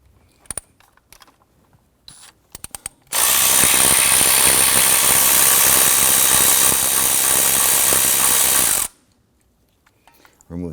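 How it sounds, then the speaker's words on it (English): A 10mm socket ratchet loosens the coil anchoring bolt on the 4.0L V6 of a 2005-2021 Nissan Frontier, a loud, steady burst of rapid clicking lasting several seconds, with scattered small clicks before and after. "Use a 10mm socket to loosen the anchoring bolt here for that coil."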